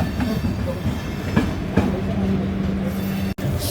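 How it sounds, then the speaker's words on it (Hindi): A Howrah suburban local train rolls past on the railway, its steady rumble and wheel noise filling the scene at close range, with rhythmic clickety-clack beats and a sustained low squeal from the wheels. "See the train."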